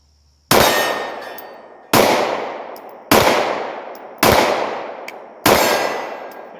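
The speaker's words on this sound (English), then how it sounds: "So same deal, let's shoot the 320." Five evenly spaced shots from a Sig 320 M17 pistol, each ringing off a steel target with a bright, long-decaying metallic clang. Loud and close, with no talking.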